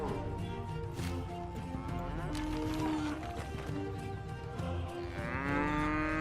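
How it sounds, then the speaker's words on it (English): Cattle moo repeatedly in the village-building video game Noble Legacy, with several drawn-out lowing calls over a busy game soundscape of hooves and ambience, while a person talks throughout. "Look at all the cows."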